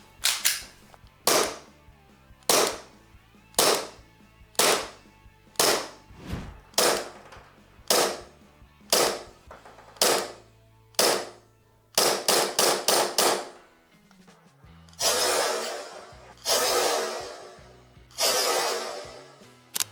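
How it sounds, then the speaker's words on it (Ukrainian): A series of sharp shots from an Umarex Glock 17 Gen5 airsoft pistol, single pops at a steady pace, then a quick burst of rapid shots, with loud crackly bursts near the end. "стріляє цей пістолет достатньо влучно"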